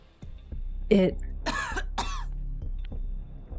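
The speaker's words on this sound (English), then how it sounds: "The hooded figure coughs violently for a few moments, their bodies shaking uncontrollably as they do so." A hooded video game character coughs hard in a few harsh, ragged bursts, then lets out rasping, wheezy breaths over a low hum, close and isolated.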